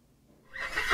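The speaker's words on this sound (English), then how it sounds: "A horse, E-I-E-I-O. With a nay nay here and a nay nay there." A short horse neigh swells up at the end of a moment of near silence, part of the Old MacDonald children's farm song.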